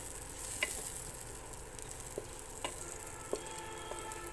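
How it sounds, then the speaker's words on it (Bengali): Chopped garlic sizzles faintly in melted butter in a pan for cheese pasta, a low, steady hiss broken by a few light taps from stirring. "এখন আমি এখানে রসুন কুচিটা দিয়ে দেব"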